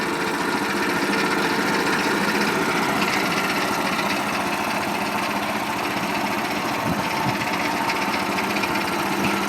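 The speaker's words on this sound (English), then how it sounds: "That's on mid-range revolutions for the engine, so that's a nice little speed for the roller." A road roller's engine runs at a steady mid-range speed, a continuous close mechanical rumble with light rattling and vibration.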